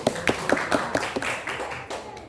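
A small audience claps in a short burst of sharp, distinct hand claps that quickly thin out, close and fairly loud, with no talk over them.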